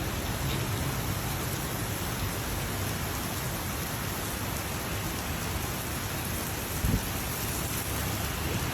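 Steady rain falls outdoors on a wet day, a dense, even hiss throughout with one brief louder patter near the end and no voices.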